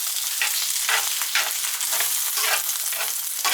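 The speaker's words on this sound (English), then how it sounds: "You want to come back and stir this up a little bit because that egg is taking too long." Eggs sizzle steadily in a hot pan, a close, bright crackle broken by rhythmic scraping strokes as they are stirred, with no voices.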